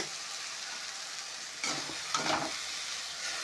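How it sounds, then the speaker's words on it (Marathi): Vegetables frying in a pot over a wood-fired stove, a steady close sizzle that swells into louder crackling and spitting as oil is poured in partway through. "आता थोडंसं तेल टाकिते परत"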